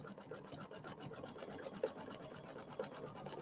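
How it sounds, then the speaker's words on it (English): A home embroidery machine works satin stitching on a summer-themed bench decoration, giving a faint, rapid, rhythmic needle chatter with occasional small clicks, steady and quiet throughout. "we're going to do the satin stitching"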